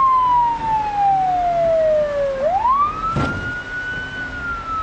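Police siren in the video game Project Zomboid, a loud wailing tone that sweeps down, rises again and holds steady, with a brief thud partway through.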